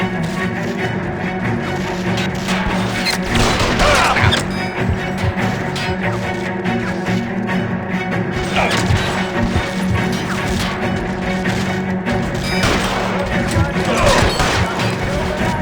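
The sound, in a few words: gunfire in video game L.A. Noire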